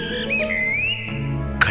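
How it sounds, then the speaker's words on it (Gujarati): A wagtail calls in one sustained, sliding whistle-like note that rises and dips, clear and close, with a brief sharp burst right at the end. "ખંજન પક્ષીના બોલવાનો અવાજ સંભળાય છે."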